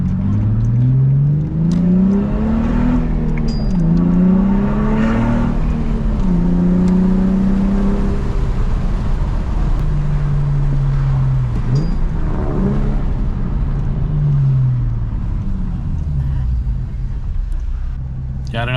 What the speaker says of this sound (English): It's just a muffler delete, but it's got a little sound now.